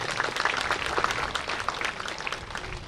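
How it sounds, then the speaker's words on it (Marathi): Audience at a school admission festival in Toranmal, Dhadgaon, clapping to congratulate the district collector, with dense, steady applause throughout and no speech over it. "जिल्हाधिकारी मॅडमांचं आपण टाळ्या वाजवून अभिनंदन केलं पाहिजे"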